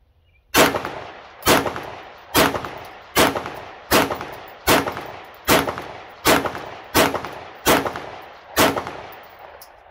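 A Glock pistol fires ten evenly spaced, loud, sharp shots outdoors, each with a short decaying echo, one roughly every second, with no talking between them.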